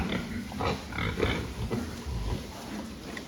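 Five-month-old cull pigs grunt and snuffle together in a pig barn during weighing, making a dense, continuous jumble of low grunts against a noisy background.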